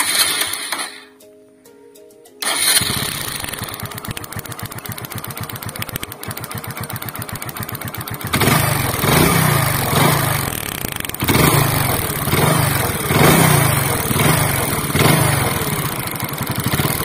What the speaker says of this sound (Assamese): সেলফটো মাৰো তো বাইকখন ষ্টাৰ্ট হৈ যাব